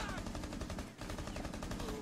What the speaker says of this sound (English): I hear shooting around me.